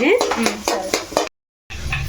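Slit green chillies frying in a pan while being stirred, with clattering metal scrapes and knocks of a spoon against the pan, a brief silent gap, then soft sizzling resumes.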